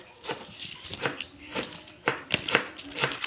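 A knife cuts squid on a board for adobong pusit, a series of soft, irregular close-up taps and slicing knocks, about a dozen over a few seconds.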